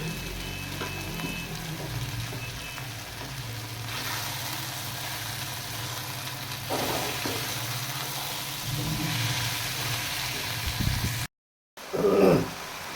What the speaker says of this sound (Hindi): और इसको अच्छी तरह से अभी भुनेंगे जब तक ऑयल नहीं ताज़ा हो जाता